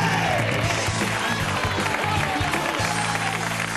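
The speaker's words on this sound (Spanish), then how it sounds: "Un aplauso para Carlos Areces." Studio audience applause on a Spanish television show, a dense sustained burst of clapping and crowd noise that fills the room for several seconds.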